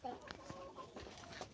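A hen clucks in short, repeated bursts close by in a rural yard, with a voice talking faintly underneath.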